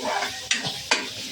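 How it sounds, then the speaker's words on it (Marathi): Cabbage, carrot and capsicum sizzling as they are stirred and roasted in a pan for chicken manchurian soup, with a steady fry punctuated by two sharp scrapes of a spoon against metal. "जरा भाजून घेते जरा हे"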